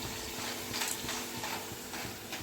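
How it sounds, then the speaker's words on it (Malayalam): Jackfruit fry being stirred in a pan, a steady close hiss of frying under rhythmic scraping and shuffling strokes of the spoon, continuous and fairly quiet with no talking. "ഇങ്ങനെ ഇളക്കി കൊടുക്കണം"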